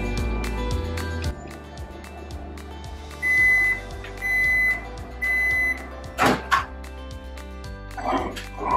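Microwave oven humming at power level 4 while melting chocolate and butterscotch chips, with several repeated electronic beeps, a dog barking and whimpering nearby, and kitchen clatter.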